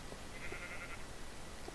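Minecraft 1.8 sheep bleat faintly in the game, a thin wavering baa drawn out for about half a second over steady background noise, with faint game sounds around it.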